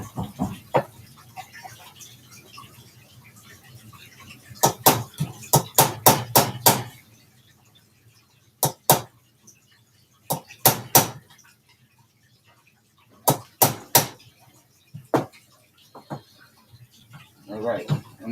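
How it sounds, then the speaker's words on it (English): A hammer taps on the magazine release of a CZ Tactical Sport 2 pistol in sharp metallic clusters of several quick strikes, separated by pauses, with someone talking quietly in between. "It looks like I got to hit it with a hammer."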